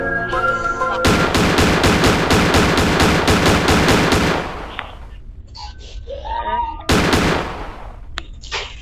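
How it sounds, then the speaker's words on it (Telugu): A shotgun fires repeatedly in the horror video game Granny, loud booming blasts packed into a rapid burst that stops abruptly, then a quieter stretch with game noises before one more short loud burst. "షార్ట్ గన్ చూడండి ఎట్లా కొట్టుకుంటుందో."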